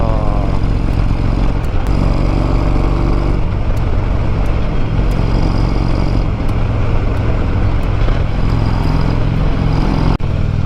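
Motorcycle riding up a mountain road toward Hangyeryeong in Gangwon-do, Korea, a steady loud engine drone mixed with wind and road noise throughout, no talk.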